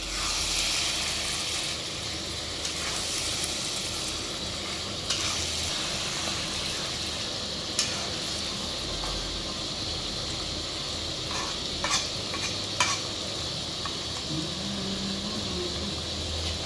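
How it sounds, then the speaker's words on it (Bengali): Mutton pieces frying in hot oil and spice masala in a pan for a home-style curry, a steady close sizzle running throughout with occasional scraping and stirring clicks. "তো এবার তোমরা মটনটাকে অ্যাড করবে। মটনটাকে অ্যাড করে সুন্দর ভালোভাবে মাখিয়ে নেবে।"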